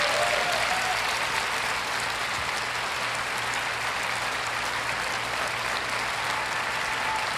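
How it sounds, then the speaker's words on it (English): Sustained audience applause fills a large hall at an Apple iPhone 7 launch event, steady dense clapping from many people throughout with no break. "Notice the applause is from the front rows, the back rows, which contain the journalists, the press."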